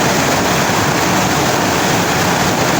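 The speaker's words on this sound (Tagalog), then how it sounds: "Oh. Ilog siya." River water flows in a constant, loud, broadband rush with no breaks, alone and without voices, like a steady stream heard up close.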